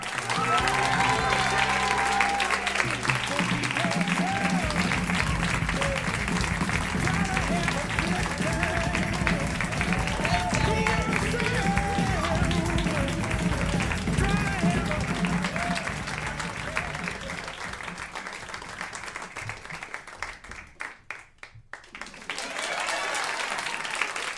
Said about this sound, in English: This is a long round of applause, please, for Mike Falzone and Steve Zaragoza, everybody.